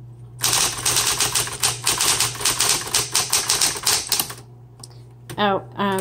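A 1960s Smith Corona Coronet Electric 12 typewriter clatters in a fast, dense run of keystrokes for several seconds, then stops, and a voice speaks briefly.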